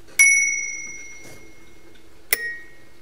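A Czechoslovak Tesla telephone bell is struck twice by its hammer: one bright, ringing ding that decays slowly, then after a pause a second, shorter and quieter tap on the gong.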